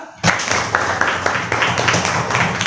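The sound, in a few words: applause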